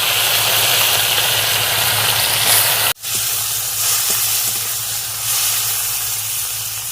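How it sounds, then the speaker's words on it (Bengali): Chopped tomato dropped into hot mustard oil in a wok, a loud steady hiss and sizzle that dips abruptly for a moment and then resumes. "ওই তেলের মধ্যে টমেটোর কুচি দিয়ে দিচ্ছি।"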